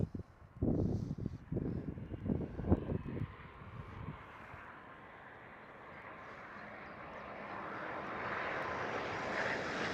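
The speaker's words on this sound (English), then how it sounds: "Next one is KLM Dreamliner from Mexico City." A KLM Boeing 787 Dreamliner arriving from Mexico City at Amsterdam Schiphol, its jet noise swelling gradually from faint to a steady roar, with gusty wind buffeting the microphone early on.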